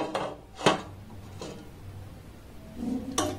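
A lid is set over a pan of pitha cooking on the stove, giving a few sharp metallic clanks and knocks spaced over a few seconds against a quiet low hum, close by and without speech.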